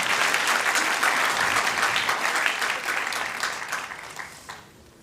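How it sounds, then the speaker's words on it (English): An audience at a Gita Jayanti gathering at Bhaktivedanta Manor bursts into applause for an honest participant, a full burst of crowd clapping that gradually thins and fades out over a few seconds. "give him a round of applause for being so honest"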